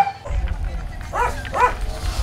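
Dogs bark at an animal shelter during feeding time, with a couple of close yelping barks in the middle and people talking around them.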